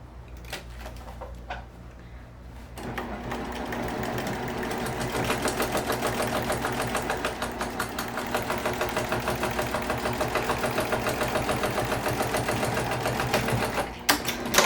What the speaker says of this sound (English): go ahead and stitch those in place